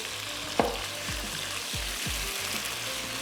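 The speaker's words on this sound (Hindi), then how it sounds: "चिकन को थोड़ा सा पकाते हैं, फिर हम इसमें ऐड कर देंगे लहसुन और अदरक का पेस्ट" Chicken frying in a pan with ginger garlic paste gives a steady, close sizzle, broken by a few soft thumps and stirring knocks, with no one talking.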